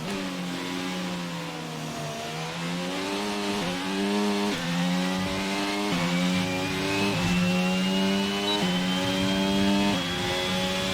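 An F1 car engine from the racing game F1 22 screams at high revs while driving, its pitch rising and dipping through gear shifts and corners, loud and continuous with no speech.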